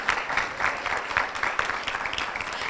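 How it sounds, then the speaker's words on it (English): Audience applause for the Van Wezel Foundation at a teacher appreciation event, a steady wash of many hands clapping at an even level throughout, with no voices on top. "another big applause also for the Van Wezel Foundation"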